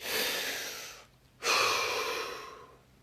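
A deep breath drawn in slowly and released, followed after a brief quiet pause by a second long breathy exhale. Both are close and fairly loud, with no speech.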